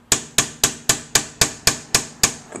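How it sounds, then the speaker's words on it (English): Steady hammer blows close up a silver ring blank, nine crisp ringing metal taps falling in an even, quick rhythm, loud and near with nothing else heard. "I'll hammer that side down a little bit"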